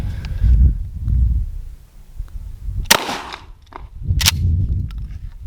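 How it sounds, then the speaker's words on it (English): A Mossberg shotgun fires Winchester PDX1 defensive rounds outdoors: two sharp, loud blasts about a second and a half apart, over a steady low rumble of wind. "So now I've got that same PDX 1 round in my Mossberg. Let's go try that out."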